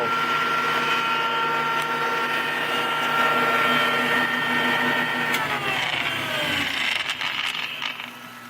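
A Delta Rockwell heavy-duty shaper fitted with a door edge cutter runs with a steady, smooth motor whine and a close mechanical hum. The hum then winds down in falling pitch as the machine coasts to a stop.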